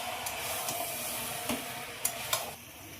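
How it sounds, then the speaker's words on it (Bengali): A spatula stirs banana flower curry with fried prawns in a hot pan, giving a steady sizzle with scraping movements and a couple of sharp clinks near the end. "চিংড়ি মাছ দিয়ে খুব ভালোভাবে নেড়ে দেবো।"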